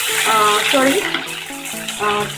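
Ginger garlic paste sizzles and spatters in hot oil in a kadhai, a bright crackling hiss close by, with a voice-like tonal murmur running through it.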